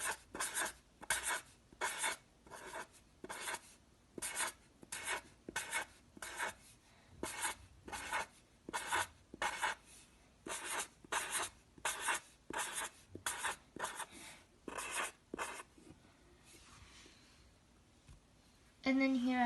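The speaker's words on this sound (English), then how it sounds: "then I'm gonna draw some eggs like this" Pencil drawing on paper, steady rhythmic scratching strokes close to the ear, repeated in short bursts with brief gaps, then easing into lighter sketching near the end.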